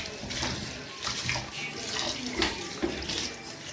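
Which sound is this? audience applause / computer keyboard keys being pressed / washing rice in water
washing rice in water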